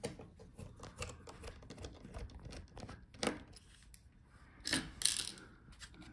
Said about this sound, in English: so let's take out all the screws